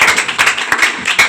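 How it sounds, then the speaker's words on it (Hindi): An audience at an Independence Day (15 August) program claps in several quick bursts, loud and close, with no talking over it. "बहुत बढ़िया, ताली बजा रहे हैं।"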